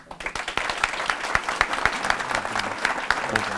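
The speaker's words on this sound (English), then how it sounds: "Listen to the applause." An audience at a lunchtime memorial garden event applauds after a talk, a steady patter of many hands with distinct individual claps standing out, fairly close and sustained.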